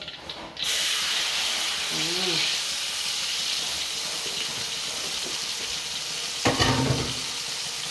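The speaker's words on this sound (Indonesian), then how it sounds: "Sekarang saya masak sambelnya yuk." Sambal cooks in a hot pan, starting with a sudden loud burst of sizzle that settles into a continuous bright hiss. A brief voice comes partway through and a scraping clatter near the end, all under steady frying.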